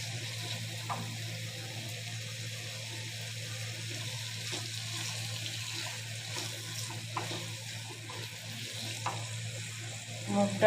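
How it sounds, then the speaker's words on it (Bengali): Mung dal frying with dried red chillies in a pan, a steady close sizzle with occasional stirring scrapes, continuous throughout with only faint background sounds. "মুগ ডালটা দিয়ে ভালো করে কিন্তু কষাতে হবে"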